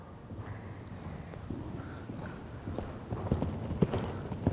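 Horse hooves clip-clopping at a trot during a riding lesson over cavalletti poles, a steady rhythmic beat at moderate distance that grows a little louder and sharper toward the end, with no talk.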